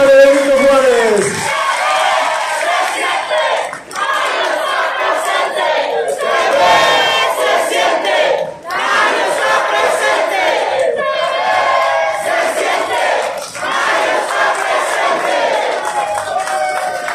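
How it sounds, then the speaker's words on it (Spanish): A crowd at a Morena political rally in Benito Juárez roars with loud cheering, shouting and chanting in repeated surges, voices dominant over any clapping and briefly dipping between waves. "¡Fuerte el aplauso de la gente bonita de Benito Juárez!"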